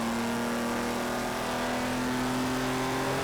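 A 1959 Jaguar's engine held at full throttle in Forza 7, a steady sustained drone with a strong, even tone, loud and constant throughout with no voices.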